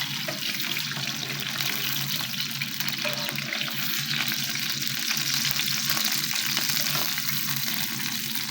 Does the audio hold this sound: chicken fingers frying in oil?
yes